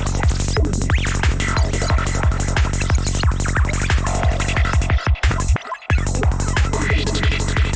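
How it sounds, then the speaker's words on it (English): FM synthesizer patch through a bandpass filter and a quarter-note delay, a dense, loud rhythmic pattern of repeating pulses that drops out briefly near the end before resuming. "As you can see, I just went with a fairly basic FM setup."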